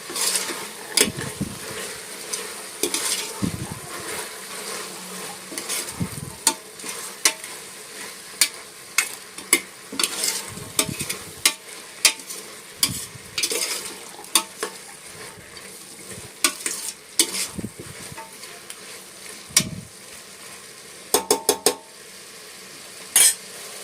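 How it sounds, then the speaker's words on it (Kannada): Potatoes and other ingredients stirred and fried on a stove over medium flame, with a low steady sizzle and frequent close scrapes and clanks of a spoon against the pan throughout. "ಇವಾಗ ಸ್ಟವ್ ಮೀಡಿಯಮ್ ಫ್ಲೇಮಲ್ಲಿ ಇಟ್ಕೊಂಡು ಇದೆಲ್ಲ ಮಿಕ್ಸ್ ಮಾಡ್ತೀವಿ"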